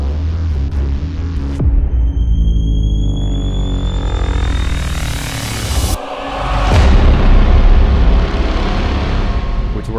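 An 8Dio Insolidus choir transition layered with orchestral instruments swells through rising whooshes and sweeping tones, breaks at a sharp hit, then surges into a loud, dense, throbbing climax.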